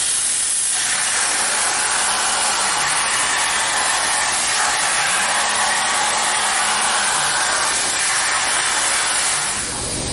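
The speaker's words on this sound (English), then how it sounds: "I guess we gotta turn the air compressor on." An air compressor runs in a workshop, giving a loud, steady, close-up broadband hiss and drone that continues unbroken from start to finish.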